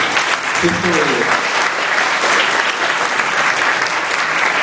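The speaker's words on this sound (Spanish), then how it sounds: "Yo creo que se merece un aplauso" Audience applause at a symposium on prenatal interventions, a dense, loud, sustained roar of clapping from a large crowd filling the whole stretch, with a brief voice audible early on.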